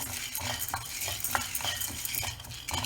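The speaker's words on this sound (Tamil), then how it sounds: "இந்த 1 கப் ஆஃப் பொட்டுக்கடலையும் போட்டு அதையும் நல்லா பொன்னிறமாக வறுக்க போகிறோம்" Roasted gram, pottukadalai, being dry-roasted in a pan, a soft continuous rustling scrape of stirring with occasional light clinks, fairly quiet and close.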